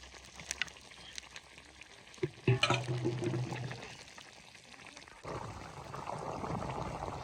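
Fish and fish roe go into onion gravy in a pot, giving a soft wet bubbling and liquid simmer with a brief splash and clatter as the pieces drop in, close and fairly quiet.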